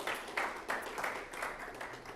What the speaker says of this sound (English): still a round of applause for Kunze, our mobile dev lead